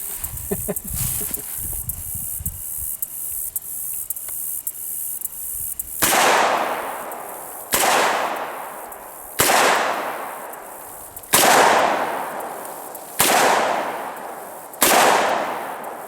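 Six loud, sharp revolver shots from a Smith & Wesson 686 firing .357 Magnum rounds, spaced roughly every one and a half to two seconds, each with a ringing decay; a quieter rustle and handling noise come before the first shot.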